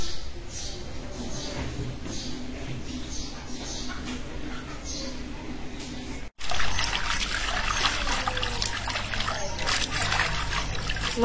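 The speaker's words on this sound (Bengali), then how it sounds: "মাছগুলি কাটা ধোয়া হয়ে গেছে, এখন ফাইনালি একটা ধোয়া দিতেছি" Tap water runs steadily as freshly cut small fish are given a final rinse in a home kitchen; a continuous trickling and splashing stream, louder and brighter after a brief break midway.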